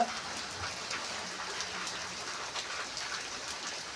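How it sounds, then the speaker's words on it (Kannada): Steady rain falling, a dense even patter of drops on surfaces, constant and moderately loud throughout. "ಮಳೆ ಕಡಿಮೆ ಆಗಿದೆ"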